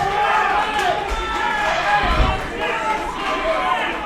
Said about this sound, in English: Crowd showing appreciation there.